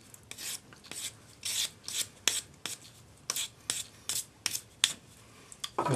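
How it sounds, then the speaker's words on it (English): A sanding stick rasps across the rough, hammered end of a handmade metal hook catch, giving about a dozen short, crisp strokes in an uneven rhythm, close and clear with no talking. "take your sanding stick and tidy up this end,"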